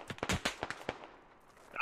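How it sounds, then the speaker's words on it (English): Gunfire during the Operation: Grinder multiplayer shooter event pops in a quick, uneven string of sharp, moderately distant shots that trail off into a quiet tail. "Shots coming in on him."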